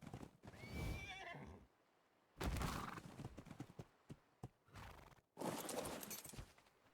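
A horse in the video game Ark: Survival Evolved whinnies, with bursts of galloping hooves and movement in between, fairly close and loud with short quiet gaps.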